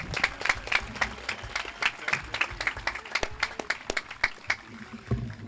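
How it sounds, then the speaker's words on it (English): Applause at a graduation ceremony for an a cappella group, a crowd clapping steadily throughout in a dense, lively patter that stays fairly even in volume. "How about another round of applause for Mepa Capella?"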